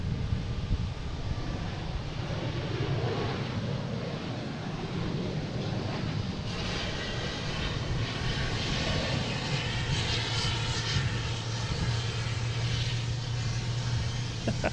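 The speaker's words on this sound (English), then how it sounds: "Next taking off is Delta at A321 Neo, heading to Seattle." A Delta Airbus A321neo jet takes off at Boston Logan, its engine roar broad and steady, rising in strength over time with wind rumble on the microphone and no clear talk.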